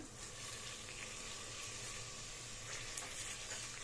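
Mutton biryani masala with coriander and mint frying in a pan, a soft steady sizzle that stays low and even throughout, with no voices.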